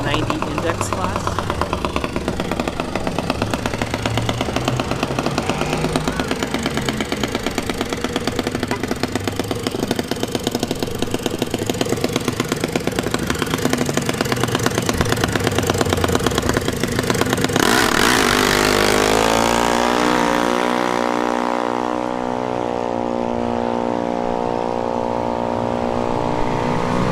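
A junior dragster in the intermediate class runs at a drag strip during a test-and-tune session. Its small engine drones loudly and continuously, then rises in pitch as it accelerates away. A voice talks over the engine for much of the run.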